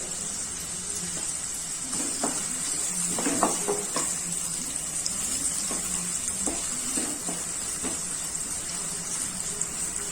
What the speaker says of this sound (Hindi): तो यहाँ पे मैं डाली हूँ प्याज। इसको लाइट पिंक होने तक फ्राई करेंगे